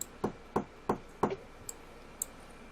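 Four evenly spaced knocks on a door, crisp and fairly close, then two fainter ticks trailing off; a played sound effect with no talking over it.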